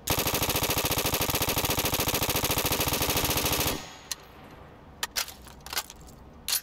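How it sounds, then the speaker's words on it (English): A Tommy gun fires a long, fast, continuous burst in Gmod, loud and close, then stops abruptly and leaves a few faint clicks and taps alone. "What, you don't like the Tommy gun?"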